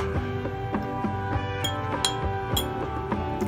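A small glass clinks repeatedly while fuljar soda is being prepared, light bright taps recurring every half second or so against a steady low hum of kitchen background, no talk.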